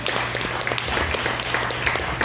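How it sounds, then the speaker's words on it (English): Audience at a mentalism show breaks into steady, dense applause, a continuous wash of many hands clapping fairly close throughout. "give them a round of applause"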